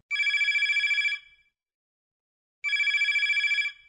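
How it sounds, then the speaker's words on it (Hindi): A telephone rings twice, each trill lasting about a second with a pause between, clear and close with nothing else around. "और सतीश भैया लेते हैं जो पहलो कॉल।"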